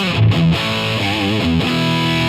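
A crunchy, distorted electric guitar through a cranked amplifier sustains a few overdriven notes and bends in a short, loud, dense phrase with no voices.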